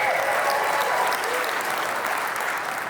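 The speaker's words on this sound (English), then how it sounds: "Round of applause for yourselves." Steady audience applause, a dense wash of clapping that holds loud throughout and tapers only slightly toward the end.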